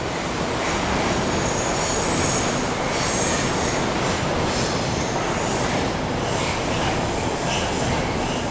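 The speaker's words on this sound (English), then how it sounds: "as you can hear by the train that's just going past" A very long train thunders past a railway station at Morpeth, close and loud throughout, with a constant roar of wheels on rail and high squealing overtones and no speech.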